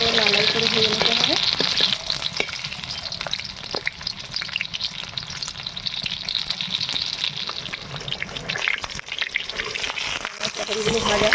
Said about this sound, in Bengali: পটলটাকে ভালো করে লাল লাল করে ভেজে নিতে হবে।